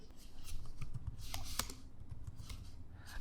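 Clicky keystrokes from a laptop keyboard typing a search into a web browser, a quick irregular run of taps close to the mic with one sharper key strike midway over a faint background hum.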